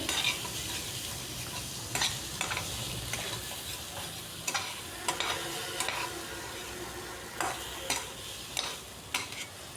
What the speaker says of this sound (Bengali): আলুটা দিয়েও খুব ভালো করে কষিয়ে নিচ্ছি মশলার সাথে